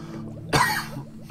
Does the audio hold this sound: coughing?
yes